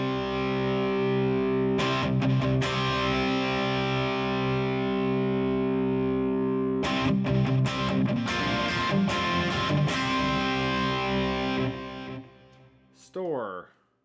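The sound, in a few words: guitar through overdrive pedal into clean amp, distortion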